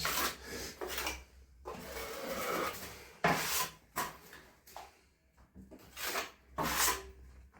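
Plaster being rubbed into the corner of a small porch makes a series of close, gritty scraping strokes in uneven bursts, separated by short pauses.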